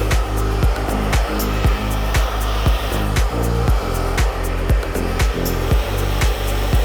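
A hair dryer blows steadily at close range during a salon blow-dry, its airflow hum broken by regular short dips as the nozzle moves through sections of hair, with no talking.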